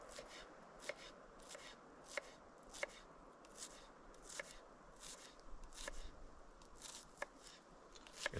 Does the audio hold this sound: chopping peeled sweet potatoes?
yes